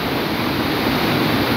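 The swollen Capibaribe river after heavy rain rushes with a loud, dense, continuous roar of churning water, broadband and unbroken, with some wind buffeting the microphone.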